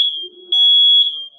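A home smoke alarm under test gives a loud, piercing high-pitched tone lasting just over a second, swelling briefly in the middle.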